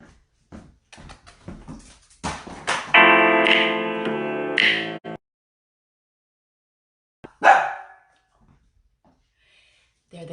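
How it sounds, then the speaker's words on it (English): Pet dogs indoors break into a loud burst of yipping and barking for a couple of seconds, then one more sharp yelp after a pause, otherwise quiet. "There they go, they're gonna bark."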